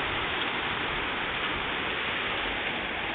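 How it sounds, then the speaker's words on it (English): Steady rain keeps falling just after a hailstorm ends, a close, loud and unbroken hiss of drops pouring down with no voices. "Now it's just rain."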